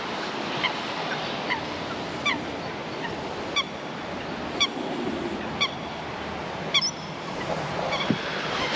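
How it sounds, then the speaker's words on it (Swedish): Geese honk repeatedly from some distance at a lake in spring, calling in scattered bursts over a steady wash of water and ambient noise. "Fåglarna har redan börjat vakna."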